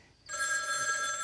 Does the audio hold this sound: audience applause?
no